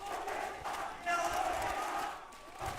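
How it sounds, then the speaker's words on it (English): A crowd roars and cheers at a VCT Ascension Pacific esports match, a sustained swelling wash of voices with a commentator talking over it. "the crowd just rallying behind this one round that could potentially put them into match point"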